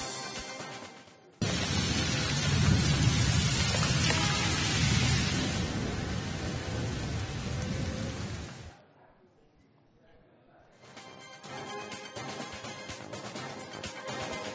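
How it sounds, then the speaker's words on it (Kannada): Heavy rain pours across Agra city as a dense, loud, steady hiss that drops away briefly to near silence before the downpour returns more faintly. "ಉತ್ತರ ಪ್ರದೇಶದ ಆಗ್ರಾದಲ್ಲಿ ವರುಣನ ಸಿಂಚನವಾಗಿದೆ. ನಗರದಾದ್ಯಂತ ಸುರಿದ ಮಳೆಗೆ ಜನಜೀವನ ಅಸ್ತವ್ಯಸ್ತವಾಗಿದೆ."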